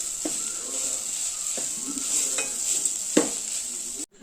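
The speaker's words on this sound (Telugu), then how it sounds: "గ్రైండ్ చేసి కలుపుకున్న కొబ్బరి పచ్చడిని ఇలాగ ఇందులో వేసుకోవాలి. వేసుకున్న తర్వాత ఇలాగ కలుపుకోవాలి." Ground coconut chutney is stirred into a hot tempering in a pan, a steady bright sizzle running throughout with a few soft spoon scrapes and knocks close by, no voices heard.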